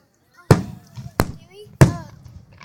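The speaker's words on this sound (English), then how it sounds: "You just sit here and enjoy the fireworks." Fireworks at Dolphin Island go off as three sharp, loud booms spaced about two-thirds of a second apart, each with a short decaying tail, while people talk softly nearby.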